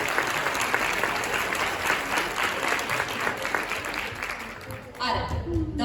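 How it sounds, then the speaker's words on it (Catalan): Loud, sustained applause from a school festival audience for a winning class and its winner, dense clapping filling the hall before tapering near the end, when a voice briefly starts. "des de part de l'AMPA demanem un fort aplaudiment per a aquesta classe i molt especial per a la seva guanyadora"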